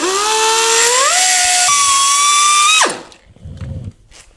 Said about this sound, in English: You can cut it with a cutoff wheel.